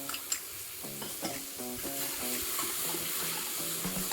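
Ingredients for a lentil soup being stirred in a pot as they fry, with a steady sizzle under repeated scraping strokes and clinks of the utensil, close and fairly quiet.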